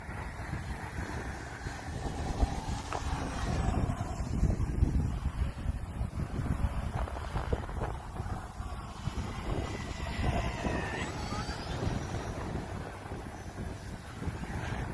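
Cold wind at an outdoor model airplane field blows as constant rumbling gusts across the microphone, loud and low, with no talk.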